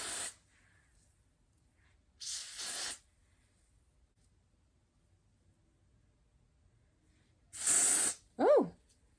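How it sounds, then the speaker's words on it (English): Avon Wonderlace Bond adhesive spray misted onto a wig's lace hairline in three short hissing bursts, separated by quiet pauses, with a brief higher squeak or breath right after the last burst. "I'm just gonna spray on the hairline."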